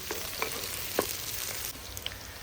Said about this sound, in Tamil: நல்லெண்ணெயோடு அந்த வெண்டைக்காய் சேர்ந்து வதங்க வேண்டியது தான்